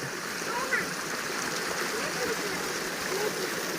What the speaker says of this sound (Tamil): இந்த அசனலி பாளைய குளத்துக்கு பாருங்க தண்ணி எப்படி வந்துட்டு இருக்குதுன்னு